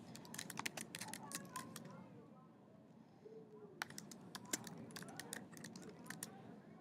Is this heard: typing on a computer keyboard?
yes